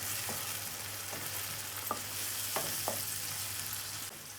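Spices and tomatoes frying in a pan, a constant close sizzle with a steady low hum underneath and a handful of light clinks and scrapes from stirring scattered throughout.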